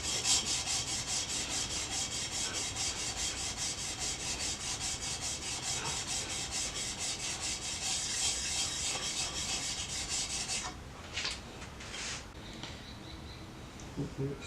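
A chisel is rubbed back and forth on a sharpening stone to take off machining marks, giving a steady close scraping rasp that continues for about ten seconds before easing into lighter strokes.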